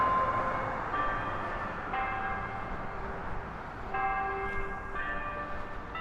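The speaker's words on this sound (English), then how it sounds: "Those bells." Church bells ring at noon over a downtown street in Carlsbad, New Mexico, with about six evenly spaced strikes roughly a second apart, each leaving a lingering hum over steady outdoor traffic noise.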